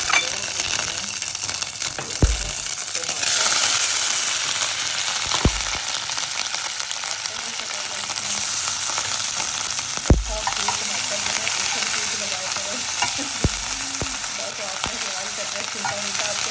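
Garlic and ginger paste fries in a pan with a loud, continuous close sizzle and hiss, broken now and then by a few soft thuds and clinks.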